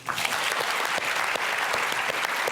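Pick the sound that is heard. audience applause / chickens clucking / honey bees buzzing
audience applause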